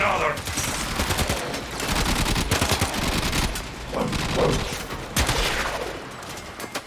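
An automatic weapon fires continuously in the video game Warframe, a dense, steady rattle of rapid shots lasting the whole stretch at fairly high loudness.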